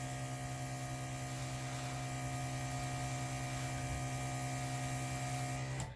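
A steady airbrush compressor hums alone, an even motor drone with a strong low tone and a bright whine holding constant throughout.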